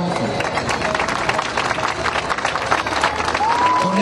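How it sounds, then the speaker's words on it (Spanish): A crowd gives warm, sustained applause for informal street vendors at the inauguration of the renovated Paseo Independencia in San Salvador, dense clapping filling the whole stretch with crowd noise mixed in. "para quienes pido un caluroso aplauso"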